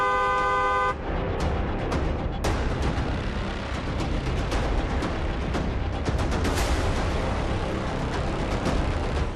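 A car horn sounds briefly at the start, then loud continuous traffic rumble and noise with sharp intermittent cracks.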